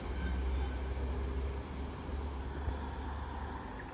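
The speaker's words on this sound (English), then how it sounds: "195 going to Manchester Oxford Road." A Class 195 train passes through Widnes station on its way to Manchester Oxford Road, giving a loud, steady rolling rumble with wheel and motor noise that holds throughout, with no talking.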